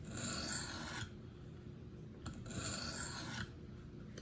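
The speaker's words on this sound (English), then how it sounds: "the way I do this is I just let the stone rest on the knife" Two light sharpening strokes of a stone held by its knob, run along a Gerber Paralite blade clamped in a KME sharpener, each a close, steady raspy scrape of about a second, separated by a quiet pause.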